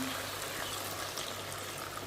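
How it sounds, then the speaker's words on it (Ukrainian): Steady pouring of boiling water, a continuous broadband rush of liquid streaming into a pot over bell pepper and carrot, moderately loud with no voices. "Заливаю кип'ячену воду кип'ятком"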